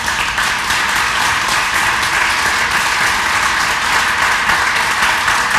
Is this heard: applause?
yes